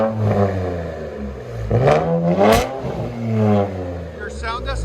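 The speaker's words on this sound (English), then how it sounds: "This is what it sounds like with 2 1/4 all the way back." A twin-turbo Infiniti Q50S with 2 1/4-inch true dual exhaust revs up in several rising and falling pulls, loud and close, with people talking around it.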